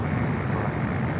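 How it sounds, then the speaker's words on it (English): A Boeing Dreamliner departs LAX bound for Tel Aviv, a steady low engine rumble heard at a distance, droning evenly through the short moment with no voices over it. "That's the Dreamliner heading back to Tel Aviv."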